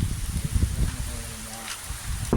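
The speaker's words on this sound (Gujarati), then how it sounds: "વરસાદ પડ્યો છે" Steady patter of rain falling nearby, with low rumbles and a few faint voices mixed in.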